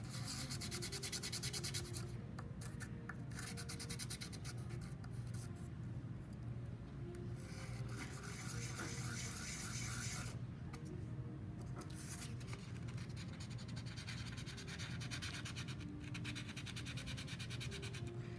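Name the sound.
sanding metal piece flat with sandpaper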